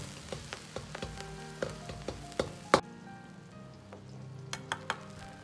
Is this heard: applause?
no